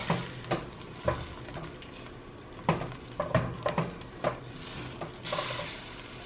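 Butter melting in a hot pan of lomo saltado is tossed through the sauce, giving a soft, faint sizzle broken by irregular clatters and scrapes from the pan and utensil.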